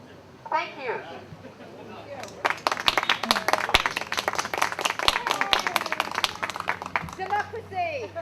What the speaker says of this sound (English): notice who's clapping for you and who isn't